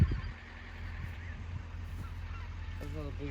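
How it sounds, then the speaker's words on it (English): Snow geese honking in the distance outdoors near a bean field, a faint chorus of calls against steady low machine or wind rumble, with a clearer harmonic honk toward the end. "Snow geese over there."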